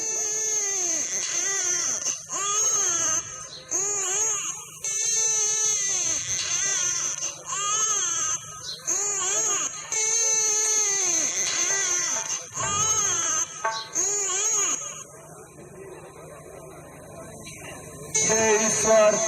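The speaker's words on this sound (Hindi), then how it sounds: "किसी बच्चे की रोने की आवाज" An infant cries loudly and persistently in a forest setting, in repeated wailing bursts with short catches of breath between them, close up and alone for most of the stretch, briefly fading near the end.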